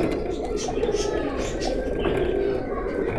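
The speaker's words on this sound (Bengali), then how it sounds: "বেনারস কবুতর, খুলনার বিখ্যাত সেই পুরাতন বেনারস কবুতর।" Benaras breed pigeons, an old Khulna strain, coo softly in a high-flying loft, low repeated murmurs running steadily under a constant background hum.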